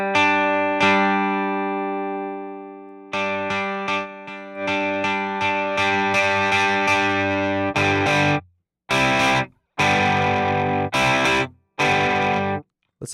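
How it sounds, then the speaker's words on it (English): Ample Sound AGRB Rickenbacker virtual guitar through tube-amp drive distortion: a sustained crunchy chord rings out, then a run of gritty strummed and picked notes ends in short staccato stabs separated by silence. "the more volume you drive into it, the more harmonic distortion you're going to hear"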